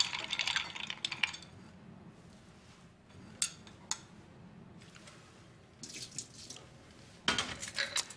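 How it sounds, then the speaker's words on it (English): Ice cubes clink and rattle against a glass as French vermouth is stirred over them for a Bombay Sapphire martini, followed by a splash of liquid poured off, the bright clatters coming in short separate bursts. "splashing a tablespoon of fine French vermouth into the glass, stirring once, and discarding the excess."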